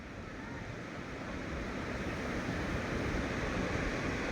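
Evening river water surges past a full check-dam weir, a steady broad rushing wash that builds slightly and stays constant throughout, with no talk over it.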